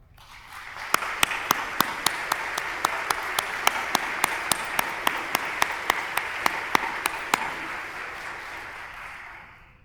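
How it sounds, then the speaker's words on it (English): An audience at a scientific society's presidential address and awards ceremony applauds in a dense, steady burst of clapping that swells and fades over several seconds, with a few sharp individual claps standing out near the microphone. "please stand and receive a round of applause"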